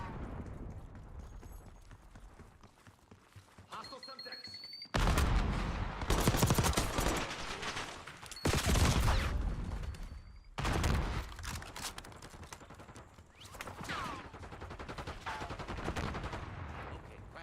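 A pistol fires in a video game during target practice, with heavy booming shots in several loud clustered bursts separated by quieter gaps of ambient rumble, close and punchy.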